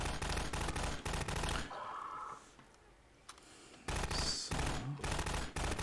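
Loud enemy bursts of automatic fire in Half-Life 2 come in two clusters, split by a quieter gap with faint clicks, then return as close rattling volleys.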